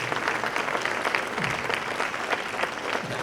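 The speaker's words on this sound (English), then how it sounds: "Let's please give a round of applause for our wonderful guest today." A dense, even wash of audience applause for guests at a cruise industry keynote, moderately distant and sustained with no voices standing out.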